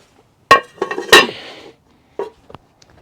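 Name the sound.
putting smoker deflector components back in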